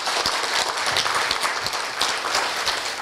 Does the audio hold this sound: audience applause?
yes